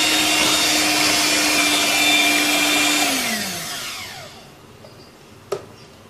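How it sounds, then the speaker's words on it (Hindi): An electric mixer runs at low speed through vanilla cupcake batter with a steady, loud motor whine, then winds down and falls silent, followed by a single light knock. "बिल्कुल लो स्पीड के साथ एक दफ़ा आप इसमें मशीन को चला दें ताकि ये ज़रा स्मूथ हो जाए"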